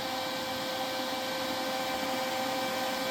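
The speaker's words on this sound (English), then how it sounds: "Turn the machine on, and run the wire speed all the way up." Welding machine running with its wire feed motor set to maximum speed, a steady, continuous whirring drone at moderate level, unbroken for the whole stretch with no voices.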